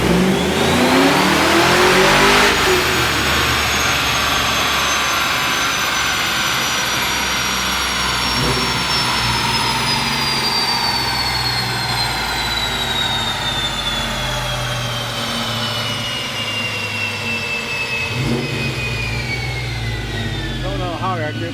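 A 1994 Ford Mustang GT engine revving hard on a dyno, loud and close, climbing steadily in pitch through a long sustained pull with a whining rise and a brief lift near the end.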